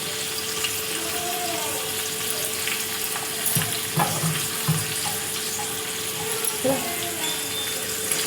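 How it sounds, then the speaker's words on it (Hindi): Onions fry and brown in a pot for chicken biryani, a steady close sizzle with occasional stirring knocks and some background running-water-like hiss, no talk. "ये प्याज को मैं अच्छे से इसमें ब्राउन करूँगी।"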